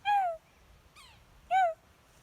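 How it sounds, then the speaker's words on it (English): A red-headed woodpecker calls three times, each a clear, harsh descending note roughly half a second long, spaced about a second apart and fairly close in a quiet outdoor setting. "There's a redhead woodpecker right there."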